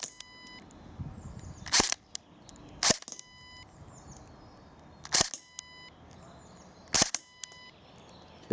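Shots fired at electronic targets during a speed game of eight shots, four sharp, loud cracks spaced a second or two apart, each followed by brief electronic beeping tones from the targets.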